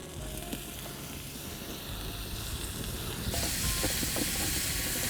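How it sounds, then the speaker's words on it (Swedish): Chanterelle mushrooms fry in butter over an outdoor fire, giving a steady close sizzle that grows louder and brighter partway through, with small crackles and stirring noises. "Nu när Nicky har börjat lägga på smör, hackat upp maten, kantarellerna ligger på."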